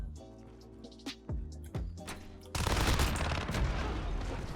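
Fennec SMG fire in Modern Warfare: a few separate two-round bursts ring out, then a dense, continuous stretch of loud rapid gunfire.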